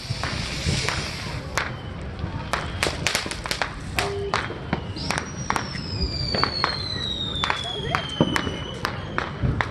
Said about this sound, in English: I recorded some fireworks from my channel.